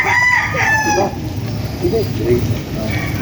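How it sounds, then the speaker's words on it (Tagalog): A gamecock rooster of Bacolod Eagle or Sandy lines crows with a long, strained call near the start, over steady background noise and scattered farmyard clucks in Pampanga. "Ang mga lahi po ng manok niya dito ay kay Bako, Bacolod Eagle, Sandy Sagon, mga alaki."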